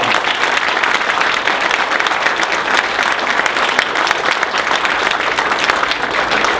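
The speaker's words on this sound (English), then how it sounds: "Give yourselves a big round of applause." A crowd applauds steadily at a political reception in New Hampshire, dense, loud clapping sustained throughout with no pause.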